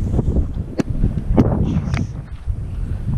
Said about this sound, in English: It is windy as heck out here.